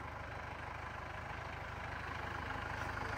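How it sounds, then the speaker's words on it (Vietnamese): Diesel engine of a Kubota L5018 50 hp tractor running steady and loud, a continuous low throbbing drone with even pulsing and no voices over it. "Máy nổ rất là khỏe luôn nha bác"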